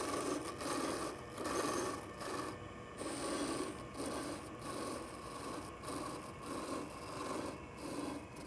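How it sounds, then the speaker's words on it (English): A parting tool cuts away waste wood on a lathe, giving a rhythmic rasping scrape that swells and fades in repeated strokes, faint and close with no talk. "just remove some of the bulk of this waste with a parting tool"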